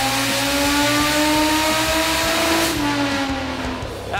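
An inline-six engine in a 1987 Toyota Cresta revs hard on a dyno at the Summernats event, a loud, sustained howl that holds high and then eases off near the end, with no talk.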